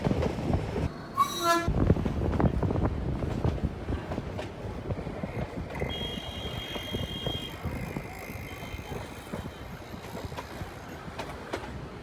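The Nilgiri Mountain Railway toy train in Ooty rumbles along with clattering wheels, a short horn toot near the start, and faint voices in the background.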